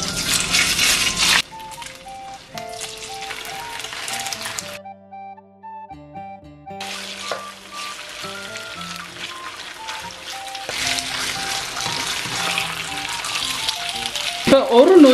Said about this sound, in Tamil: கோழியை வந்து இதுல போட்டு பொரிச்செடுப்போம்.